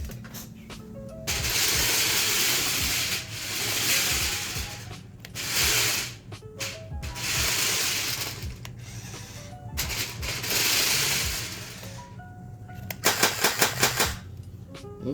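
A Veeniix Storm Master V997 toy vehicle driven around a shop, giving bursts of clattering, whirring motor and gear noise with pauses between runs and a quick rattling sequence near the end, with no talking.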